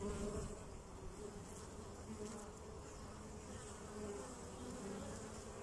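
Bees buzz in a faint, continuous drone, a low hum from many insects close by with no talking.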